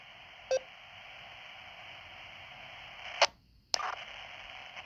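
A steady hiss of radio static from a net repeater, picked up on a Midland GXT1000VP4 walkie-talkie, broken by a few brief beeps and one short silent dropout before the signal returns.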